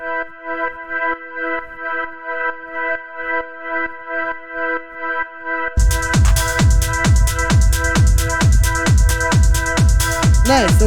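Warehouse techno synth pad with reverb: a sustained wobbling chord plays alone at first, then a heavy kick and a dense, reverberant full mix surge in and pump rhythmically underneath it.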